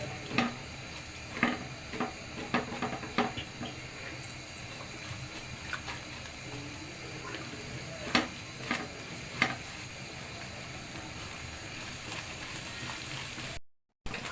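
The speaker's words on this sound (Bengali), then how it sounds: "ডিমটা এখন ভেজে নেব আমি।" Egg frying in a pan for vegetable egg fried rice: a soft, steady sizzle with occasional sharp clicks and scrapes of a utensil against the pan, heard close and fairly quiet without speech.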